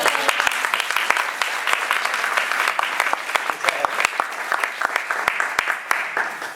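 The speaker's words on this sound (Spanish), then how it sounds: "Un aplauso." An audience claps at a book presentation, a sustained round of applause with sharp individual claps standing out, moderately loud and continuing for several seconds without speech over it.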